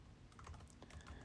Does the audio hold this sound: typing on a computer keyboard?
yes